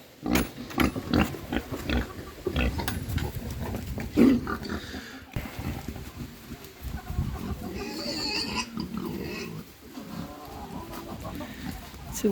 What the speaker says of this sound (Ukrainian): Пустимо до цієї компанії диких поросят.